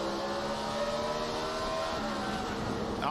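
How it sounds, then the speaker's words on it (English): A NASCAR stock car braking hard in a 2006 race, a steady loud engine drone with a rapid rhythmic pulsing in the low end as the rear wheels hop. "He jumped on the brake so hard, you can hear that boom, boom, boom, boom. That was the rear wheels getting the wheel hop."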